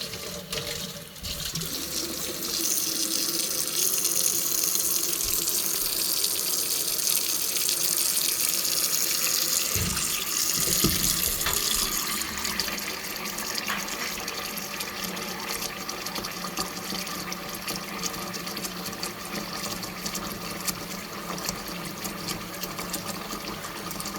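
Hot water runs steadily from a tap into a container, a continuous broadband rush filling the space at close range with no talking, pressure shifting slightly partway through.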